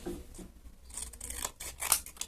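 Scissors cutting paper for a Shy Guy paper mask: close snipping and crisp rustle, a few slow cuts followed by quicker, louder snips with sharp paper crackle.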